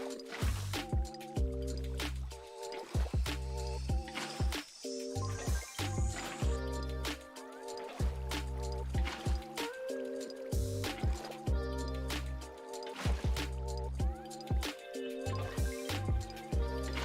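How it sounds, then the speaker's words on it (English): Watery squishing and dripping from flowing water in Minecraft 1.19 survival play, repeated in short rhythmic bursts over a steady musical backdrop, with no talking. "Look at this beautiful landscape of water. I love Minecraft water."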